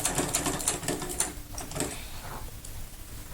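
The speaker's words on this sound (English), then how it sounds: "I'm just going to go ahead and stitch it together. And I'm chain piecing" Sewing machine chain piecing T-shirt quilt panels, a steady rattling stitch with brief pauses as fabric is fed through, close and fairly quiet.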